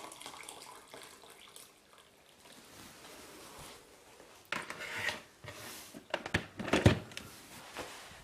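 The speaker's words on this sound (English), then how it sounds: "and add some water" Water poured from a jug into a pot to make a litre of vegetable soup. It starts as a soft trickle and builds to a louder, splashy gush in the second half, close up and with no talk.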